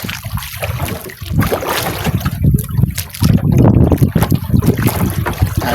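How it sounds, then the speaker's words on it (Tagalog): Strong wind buffets the microphone in rough, gusty bursts, with a low roar that swells and fades throughout. "Aga-aga pa lang po mahangin na."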